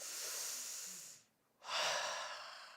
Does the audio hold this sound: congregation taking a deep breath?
yes